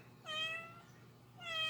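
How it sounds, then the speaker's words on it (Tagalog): A domestic cat meows twice, close and clear, the calls separated by about a second of quiet room tone in a home setting. "May pusa."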